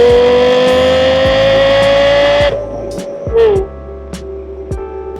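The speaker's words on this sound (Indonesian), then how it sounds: "mobil sport keluaran Lexus ini bernama Lexus LFA" A Lexus LFA sports car engine revs hard, holding a loud, high wail, then drops off sharply and blips again through a few quicker rises and falls.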